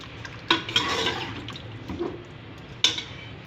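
Spices are stirred into meat in a metal pot with a few sharp spoon scrapes and clinks, with soft wet mixing sounds between them.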